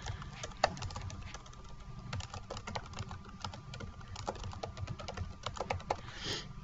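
Typing on a computer keyboard while writing a document comment, a quick irregular run of light close key clicks with no talking.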